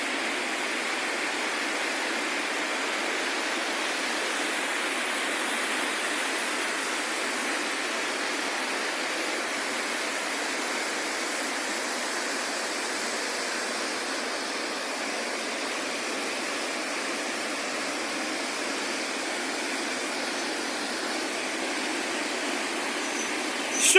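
River water pours over the Rio Cobre dam in the Bog Walk Gorge, a constant loud rushing roar that holds steady throughout with no talk over it.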